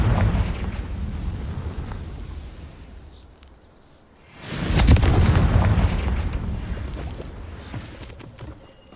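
A Confringo explosion spell goes off in Hogwarts Legacy: a soft rumbling lead-in, then a single loud blast about halfway through that swells and slowly fades.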